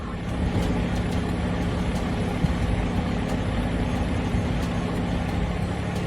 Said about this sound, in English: he's taking his time moving the truck.